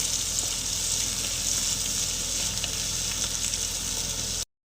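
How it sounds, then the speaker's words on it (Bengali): Chopped onion frying with a bay leaf in oil for doi kochu, a steady close sizzle filling the whole stretch without any talk, ending abruptly. "পেঁয়াজগুলোকে একটু লাল লাল করে ভেজে নেব"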